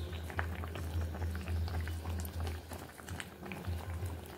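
Pabda fish curry bubbles steadily in a pan, a close, continuous low simmer with soft popping bursts and faint liquid patter, heard alone and at moderate loudness.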